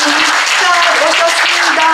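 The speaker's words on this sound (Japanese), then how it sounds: "皆様もう一度盛大な拍手でお願いいたします。" Loud, close applause from a Japanese audience at a defense association lecture welcoming a visiting general, dense continuous clapping with faint voices mixed in.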